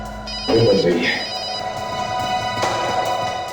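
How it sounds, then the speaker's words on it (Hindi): A telephone rings indoors in a Hindi investigation TV serial, a repeated bell-like trill starting after a brief pause, with voices and background sounds underneath. "फोन बज रही है।"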